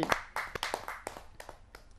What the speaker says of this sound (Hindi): जोरदार तालियों के साथ बुलाना चाहूंगा शेखर सोपा जी